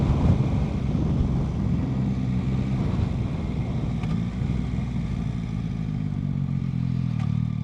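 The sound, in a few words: Yamaha Tracer 9 GT Y-AMT motorcycle riding, throttle on and off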